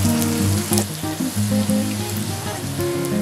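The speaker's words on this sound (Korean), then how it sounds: "튀겨지는 소리가 잠시 얌전해진 내 배고픈 배를 더 자극하기 시작했어." Food fries in hot oil with a busy, crackling sizzle that carries on close by, while faint musical tones play softly underneath.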